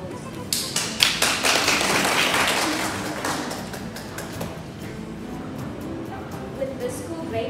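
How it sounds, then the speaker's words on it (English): An audience at a 2022 graduation ceremony in China breaks into a round of applause for the teachers: dense clapping swells quickly, peaks around the first seconds, then tapers off gradually into scattered claps. "join me to give them a round of applause."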